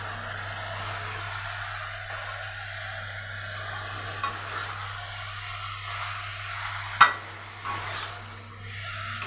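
Marinated chicken with whole black pepper sizzles and fries steadily in a pan under a constant low hum, with occasional stirring scrapes and one sharp clink of a utensil against the pan.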